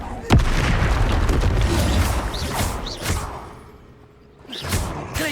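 A Confringo blasting spell going off in the video game Hogwarts Legacy, a loud close boom with whooshing magical effects and rumbling mechanical clatter, followed by further swishing bursts near the end.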